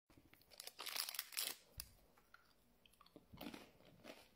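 Someone bites into a crunchy pistachio croccantini, a close, faint crackling crunch followed by chewing, with a second burst of crunching later.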